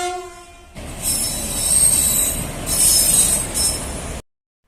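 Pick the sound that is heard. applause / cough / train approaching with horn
train approaching with horn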